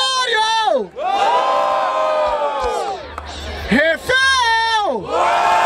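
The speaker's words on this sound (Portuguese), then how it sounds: "Barulho para as rimas do Gregório" A crowd at a rap battle in Barueri, São Paulo, roars with loud cheering, whoops and wavering shouts in repeated bursts, close and continuous.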